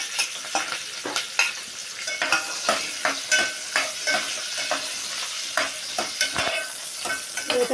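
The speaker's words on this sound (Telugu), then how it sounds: "ఇప్పుడైతే మిర్చి ఆనియన్ వేస్తున్నా." Green chilli and onion fry in a pan in a home kitchen with a constant sizzle, while a utensil scrapes and stirs in a rhythmic series of sharp strokes.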